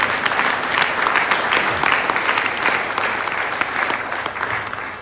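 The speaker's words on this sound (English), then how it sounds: "you deserve a huge round of applause for all the sacrifices that you've made" A temple congregation gives dense, sustained applause that holds at an even level throughout, with no voices over it.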